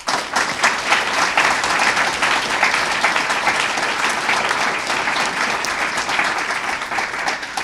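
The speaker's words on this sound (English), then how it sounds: "each of them deserve a round of applause" An audience gives a loud, sustained round of applause for state delegation members, dense clapping holding steady throughout with no pause.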